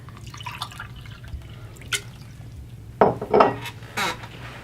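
Water poured into a drinking glass at a restaurant table, heard as a few quiet drips and then a short burst of pouring with light clinks against the glass, close and with no talk.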